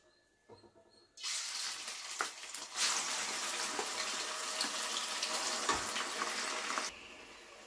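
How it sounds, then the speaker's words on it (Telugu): Onion, ginger and garlic dropped into hot oil, bursting into a loud, steady sizzle after a brief quiet moment and running unbroken until it cuts off near the end, with no talking. "ఈ ఉల్లిపాయ అల్లం వెల్లుల్లిపాయ వేగుతున్నప్పుడు"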